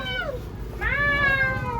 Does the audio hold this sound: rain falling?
no